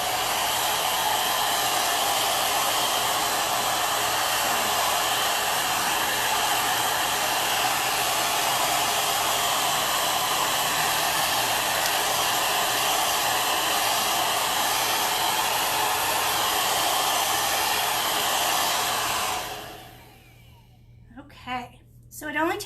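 A hair dryer on a warm setting dries chalk paint on a homemade wooden birdhouse, blowing as a steady, loud, continuous whoosh for about twenty seconds before shutting off, followed by a few brief sounds.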